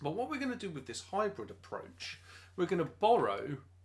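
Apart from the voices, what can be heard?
No everyday noises stand out.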